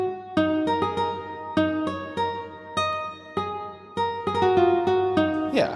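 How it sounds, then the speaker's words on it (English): Nylon-string guitar preset from the DSK Dynamic Guitars plugin plays a plucked melody of bright, ringing notes in a moderate, uneven rhythm, close and clean, with a short swell at the end. "this guitar I believe is the nylon preset in the DSK dynamic guitars"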